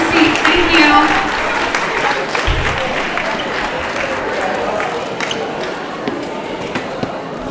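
Applause from an audience at an 8th grade awards ceremony, a steady dense wash of clapping that holds throughout, loudest at the start and settling to an even roar, with some voices mixed in.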